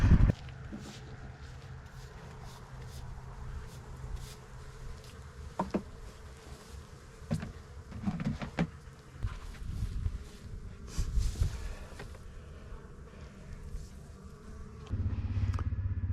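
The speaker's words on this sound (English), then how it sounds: "one of our last harvests every year involves not farm equipment, but bees" Honey bees buzz around their hives during a farm honey harvest, a steady insect hum with individual bees zipping close past, plus scattered light knocks and handling noises.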